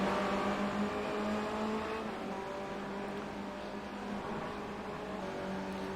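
Formula Renault 2.0 race cars at Monza in a racing video game drone with sustained engine whine and shifting pitch as several cars run close together, loud and continuous.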